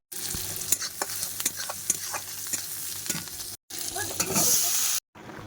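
A home-cooked vegetable curry with potato bubbles hard in a pot on the stove, a close, steady sizzle and hiss broken by scraping and clinking from a utensil, with a few brief silent gaps.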